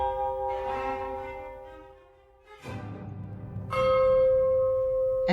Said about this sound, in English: Get some church bells.